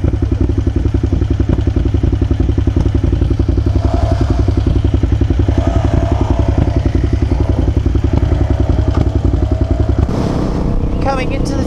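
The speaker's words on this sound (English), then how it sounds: "Right, so we have Jack and Andrew on a bike swap." A 2019 KTM 690 Adventure motorcycle ridden on an outback adventure ride, its engine throbbing steadily and loudly throughout with constant rhythmic pulsing and wind buffeting, and a brief clatter near the end.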